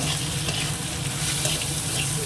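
Tomato fries in a hot pan, giving a dense, continuous close sizzle with light stirring, loud and unbroken, with no talk.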